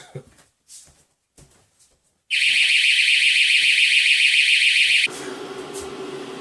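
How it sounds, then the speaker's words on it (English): After a few faint knocks and movements, a loud, piercing electronic alarm blares continuously for several seconds, then cuts to a lower droning tone. "I forgot to turn the alarm off."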